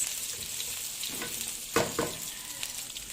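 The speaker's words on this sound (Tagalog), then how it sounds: "So next yung ating sibuyas guys. Ayan, gisa lang natin siya guys." Onions sautéing in a pan for chicken curry, a steady broadband sizzle with a few sharp stir-scrapes near the middle, close and fairly loud, with no talking.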